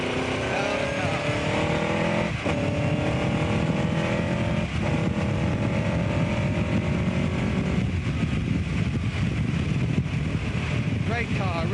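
A 1959 Cooper Climax race car's engine drives loudly and steadily, its pitch rising and falling through gear changes, with heavy wind buffeting and someone talking over it.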